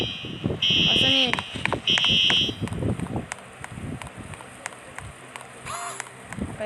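An indoor fire alarm or smoke detector emits two loud, shrill beeping bursts, then a fainter beep later, over clattering room noise and nearby talk.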